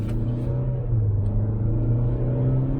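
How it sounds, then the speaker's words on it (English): Engine noise inside a Chevy Trax while driving: a steady low droning hum with road rumble, continuous and fairly loud, with no talk. "A lot of engine noise."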